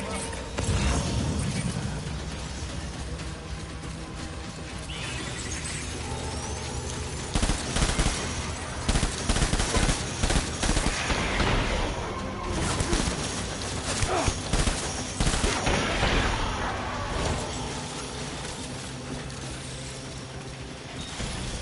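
Rapid bursts of automatic gunfire crackle through a firefight in the video game Death Stranding, with clustered volleys rising over a steady mechanical bed and a voice talking intermittently.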